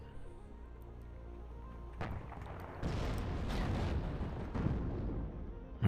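Artillery fire in the real-time strategy game WARNO, a battle with T-80 tanks: a low rumble builds into a string of heavy booming impacts, loud and overlapping, with a sharp blast at the end.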